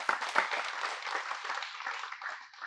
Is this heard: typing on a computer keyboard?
no